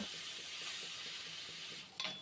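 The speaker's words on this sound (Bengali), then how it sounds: "এখন আমি চিংড়ি মাছটাকে ভেজে নেব" Shrimp sizzle and crackle in hot oil, a steady bright hiss close by, briefly broken near the end by a few stirring clinks.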